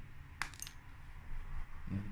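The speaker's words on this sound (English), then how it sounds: "Drop a screw on it, like, just to emphasise it more" A small metal screw drops onto a hard surface, giving a couple of quick bright clinks over a quiet, low background hum.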